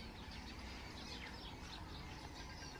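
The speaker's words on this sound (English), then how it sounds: "So these are house sparrows" House sparrows chirp near paddy fields and a pond, a steady busy chatter of small calls over a constant outdoor background hum.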